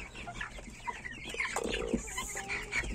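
Mechelen Cuckoo and Faverolles chickens cluck and chatter close by, soft repeated clucks overlapping with a few higher calls against a low background hum.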